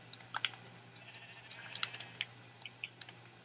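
Faint, short sheep bleats in Minecraft in a few scattered bursts over a low steady hum, quiet and somewhat distant.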